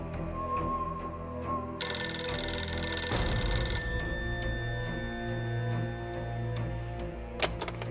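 A telephone rings for about two seconds with a bright, buzzy tone in a wartime drama set in Japanese-occupied China, heard over a low musical score.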